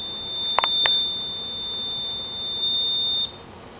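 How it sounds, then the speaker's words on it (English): A burglar alarm prototype's buzzer drones in a steady high electronic tone, preceded by two short clicks, then cuts off after about three seconds. "that buzzer should turn off."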